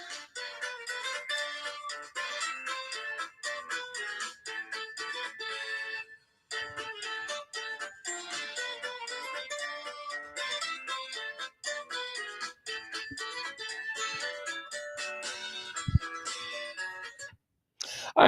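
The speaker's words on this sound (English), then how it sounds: "All right, that's my phone." A mobile phone plays a bright, melodic ringtone that loops for several seconds, pausing briefly before repeating, clear and fairly close.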